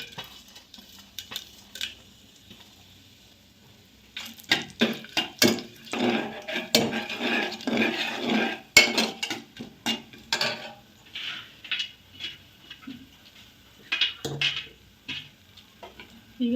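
Spices stirred and frying in oil and ghee in a pan, bursts of crackling sizzle mixed with scraping and clinking of a spoon against the vessel, louder in the middle stretch, with no voices.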